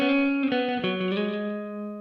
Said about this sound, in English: So this is what the guitar sounds like by itself.